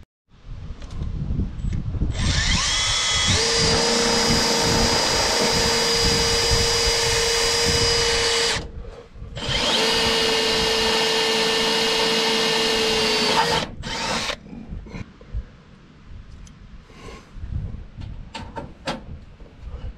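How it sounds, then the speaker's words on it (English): A handheld power tool whirs loudly in two long bursts, drilling and riveting a piece of ducting onto the bottom of a farm auger tube, followed by quieter clanks and handling noises. "I'm gonna rivet this piece of ducting right to the bottom of the auger tube."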